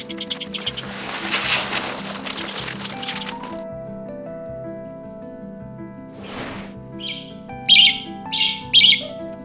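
Pet budgies squawk in loud bursts at the start, followed by quieter stretches and then three sharp, high chirps close together near the end, with no talking.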